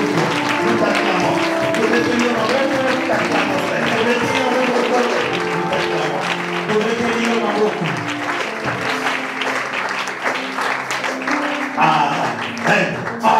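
A congregation at a French-language church gathering claps and cheers in praise, a dense, loud, sustained applause with voices and music mixed in.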